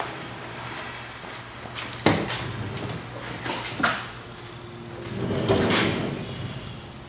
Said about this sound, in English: I'm going to move the door to the midpoint position.